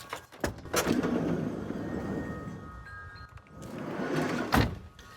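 Sliding side door on a Promaster van rolling open, a sharp latch clack followed by a long, loud rumbling slide and a second hard thunk near the end, close by with no talk.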